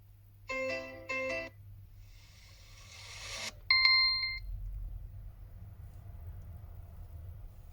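A POCO M3 phone plays an alarm ringtone: short bursts of electronic chiming tones, then a brief rising whoosh and a few clear beeps, playing faintly over a low background hum.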